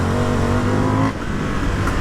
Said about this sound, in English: it still has the awesome engine.